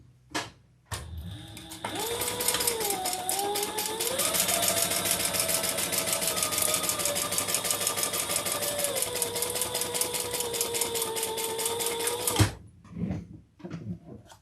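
Sewing machine stitching in one long, steady run of rapid, even needle clatter with a motor hum that shifts slightly in pitch, close by; a few clicks come before and after the run.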